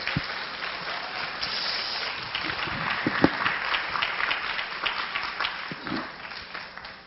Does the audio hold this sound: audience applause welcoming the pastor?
yes